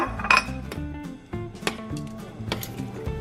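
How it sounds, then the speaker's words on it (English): A utensil stirs cooked fettuccine and shrimp together in a pan for a creamy cheesy dish, producing repeated close clinks and scrapes of metal on the pan in an irregular rhythm, with no talking. "The shrimps are cooked as well. I'll mix them well."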